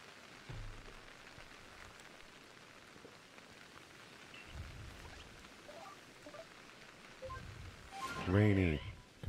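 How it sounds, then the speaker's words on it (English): Steady rain patters throughout a stormy scene in Pokemon Legends Arceus, with low thunder rumbles rolling in several times and a voice speaking briefly near the end over the downpour. "Although maybe this is a thunderstorm. Yeah, this is thunder."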